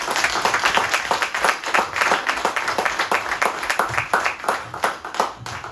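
Loud, close applause from a crowd at a political campaign list presentation, clapping arriving in rhythmic surges and swells, as if partly in unison, continuing throughout.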